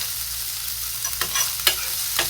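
Butter frying in a pan for macaroni spaghetti, a steady soft sizzle with a few sharper crackles and stirring scrapes, close by, with no talking.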